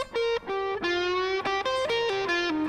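A guitar lead rings out alone as a sustained, singing electric line with effects and distortion, clear harmonic notes stepping downward through a few slurred phrases, loud and close.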